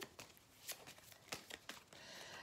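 Tarot cards shuffled close up, a run of crisp riffling snaps and papery flutters that rise and fall in quick bursts, with no talking over them.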